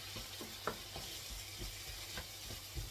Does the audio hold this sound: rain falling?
no